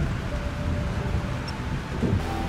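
Steady thunderstorm with heavy rain in the game Life is Strange, a constant hiss of downpour and wind with low rumbling thunder beneath.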